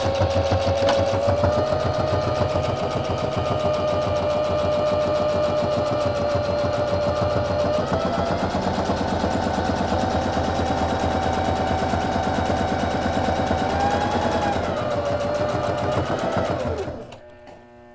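A sewing machine sews a straight stitch with 2 mm spacing on a Christmas pillowcase, running in a loud, continuous rapid whir close by for about sixteen seconds before it slows and stops.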